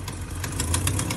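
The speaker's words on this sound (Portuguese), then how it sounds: "Isto que vocês ouvem não é um motor a falhar, é mesmo a fuga de escape." An idling BMW E30 engine with an exhaust leak runs with a steady low rumble and evenly spaced ticking puffs, close and loud with no talk.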